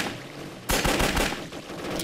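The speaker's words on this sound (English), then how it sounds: "This game is also very loud when you're shooting." Gunfire from an indie zombie video game set in Manhattan, a loud dense burst of rapid shots that starts abruptly and rattles on for over a second with no speech.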